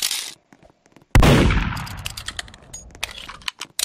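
Gunfire in an online multiplayer video game: a sudden loud blast with a long decaying tail, followed by scattered sharp clicks and shots at moderate level.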